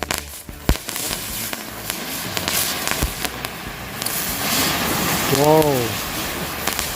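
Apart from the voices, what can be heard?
spinning firecrackers, four packs lit at once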